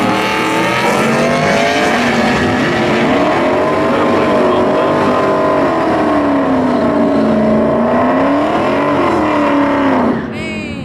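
A loud engine revs and roars with rising and falling pitch as a Toyota Supra import drag car accelerates hard down the strip at Raceway Park, Englishtown, New Jersey, the sound dominating throughout before cutting off near the end.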